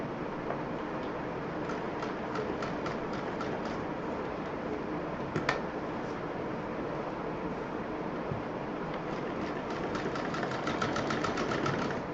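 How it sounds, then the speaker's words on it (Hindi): A sewing machine stitches the open edge of a handmade fabric utility bag, a steady fast mechanical whir with rapid ticking needle strokes that runs continuously, close and even in level throughout. "बाकी पूरा इधर का सिल देंगे"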